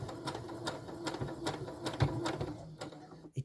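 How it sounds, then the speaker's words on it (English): A sewing machine stitches through Broderie Anglaise fabric in a quick, steady run of needle strokes. It stays close and clear, with slight unevenness where the needle hits the thick embroidered parts, and it stops near the end. "you might be able to hear it and see what's happening to the fabric when I sew through Broderie Anglaise"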